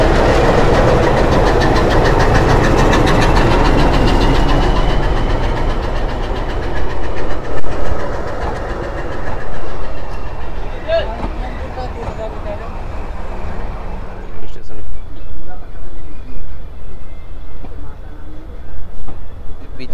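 A meter gauge passenger train on the Bahraich–Mailani line rumbles and clatters while crossing another train at a forest station, loud at first then fading to a quieter idling hum, with people talking over it.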